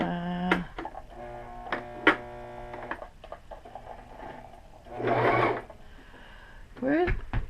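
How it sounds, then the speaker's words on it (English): A new sewing machine runs in short bursts while stitching a pillow cover from a tea towel, including reverse stitches, with a motor whir between pauses and a person talking over and around the machine. "This is a new sewing machine."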